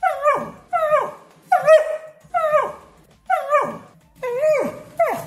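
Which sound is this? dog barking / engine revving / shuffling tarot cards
dog barking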